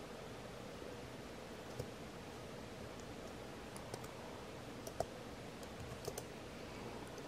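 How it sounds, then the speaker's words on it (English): One-handed typing on a computer keyboard, sparse faint clicks over a steady hiss of background noise, quiet and irregular with no talking. "Sorry, I'm typing with one hand."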